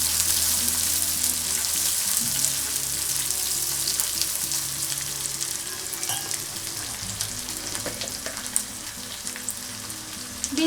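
Dried fish pieces fry in a pan with a loud, steady sizzle and hiss, joined by a low hum that stops partway and later returns; no speech is heard.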